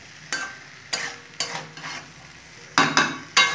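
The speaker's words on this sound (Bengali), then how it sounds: "এখন খুব ভালো করে আমি ভাজা ভাজা করে নেব, ওপর নিচ করে ভালো করে ভাজা" Dalia frying with mung dal and vegetables in a pan over a low gas flame, stirred in a series of sharp scraping strokes over a soft sizzle, close and clear with no talking.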